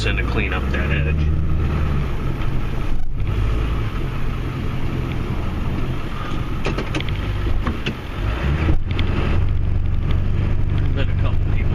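A Ford F250 Powerstroke pickup plowing snow on a steep driveway gives a constant low diesel rumble with shifting tone, a voice talking over it throughout.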